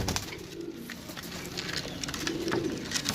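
Several pigeons coo in a loft, with soft, low, repeated cooing calls that rise out of a steady background of rustling and ambient noise.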